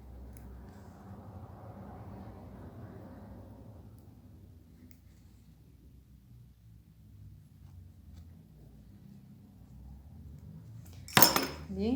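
Scissors snip dental tray material, a single sharp, close cut near the end after a stretch of soft handling and rustling in a quiet room.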